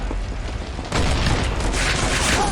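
Gunfire in the Combat Master mobile shooter game, with a loud burst of shotgun blasts cutting in partway through and continuing as dense, booming shots over a busy game background.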